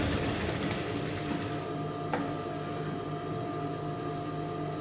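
A sewing machine stitches a trouser seam with a steady, continuous mechanical whir and rapid needle chatter close by, a brief clack midway, running on without pause and no talking.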